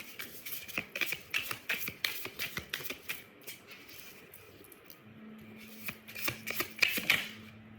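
Tarot cards being shuffled close up, a rapid run of crisp riffling flicks and slaps with brief pauses, a faint steady hum in the background.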